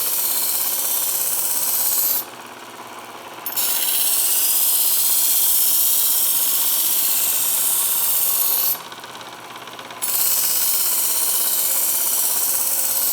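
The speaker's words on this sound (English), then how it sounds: "I'm immediately pulling through as soon as I drop that knife into the guide and contact the belt." Work Sharp E5 electric belt sharpener grinds a kitchen knife edge, a loud, steady, hissing rasp close by, broken by two brief dips where the blade comes off the belt.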